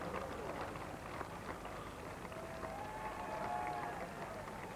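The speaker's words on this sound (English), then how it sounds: "great applause and a tremendous crowd fan participation here at these World Championships" Applause from a large crowd at the 1990 World Equestrian Games driving event in Stockholm, a steady distant wash of clapping and crowd noise running throughout at low level.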